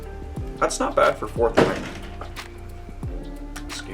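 A dog bursts out of a room, knocking a door with a dull thunk and a brief clatter, while someone talks over it in the foreground.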